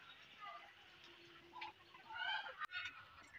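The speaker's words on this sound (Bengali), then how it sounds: "এই যে বড় হাঁসটি বের হয়ে এসেছে" On a farm, a large duck gives a few short honking calls, faint and somewhat distant. Soft background noise runs beneath them, and a sharp click is heard partway through.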